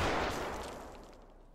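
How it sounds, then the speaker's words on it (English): A grenade detonating in a shooter video game, one loud booming blast right at the start that rumbles and fades steadily over about a second and a half, with no talk over it. "Oh, grenade."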